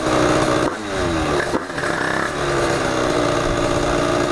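A motorbike accelerates hard along a straight stretch beside a building, its loud revving engine rising in pitch and echoing off the walls, close and continuous with a brief dip in the middle.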